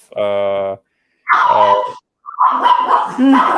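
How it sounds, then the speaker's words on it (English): Dogs bark and yelp indoors, three loud, close bursts separated by short silences, with harsh growly barks in the later bursts. "Sorry, I have dogs here."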